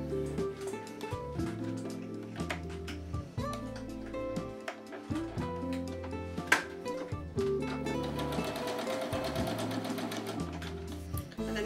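A sewing machine stitching quilt strips together, running in loud rhythmic bursts with short pauses between runs, then one longer continuous run of rapid needle strokes, heard close up without speech.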